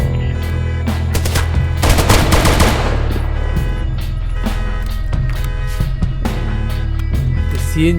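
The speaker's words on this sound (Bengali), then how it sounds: "সবাইকে গুলি করে মারতে হয়েছে।" A rapid, loud burst of automatic gunfire rattles through a scene in the first-person shooter game Zero Hour, followed by scattered single shots over a constant background hum.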